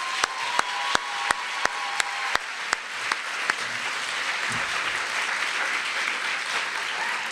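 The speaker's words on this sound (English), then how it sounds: "Let's give a big round of applause to all of our competition winners." Applause from an audience at a food science competition's closing ceremony, opening with several sharp, evenly spaced claps before settling into steady, moderately loud clapping from the crowd that carries on to the end.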